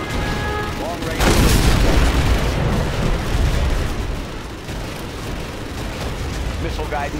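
Missile launcher explosions in the real-time strategy game Command & Conquer Generals, a loud booming blast followed by rumbling detonations, with game unit voice lines over parts of it.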